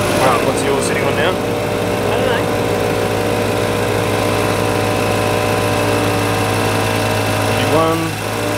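An ARB twin air compressor runs steadily while inflating a tyre, a constant loud motorized drone with a low hum throughout; people talk over it.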